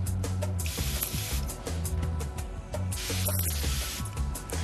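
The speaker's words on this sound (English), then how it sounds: "I find the best thing to do is to actually spray your skin with water first." A hand spray bottle mists water onto facial skin in steady, continuous hissing bursts, close and fairly loud, with no voices.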